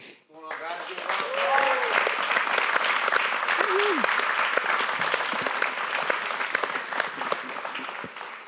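Sustained applause from a seminar audience at a strength training event, loud and dense throughout with scattered cheers and a brief voice near the start.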